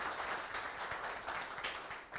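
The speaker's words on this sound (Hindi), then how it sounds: "इसी बात पे एक बार फिर तालियां हो जाएं जेपी शर्मा जी के लिए।" An audience at a meeting at the Dr Nature head office in Jaipur claps for JP Sharma, a dense, continuous wash of applause filling the room from start to finish.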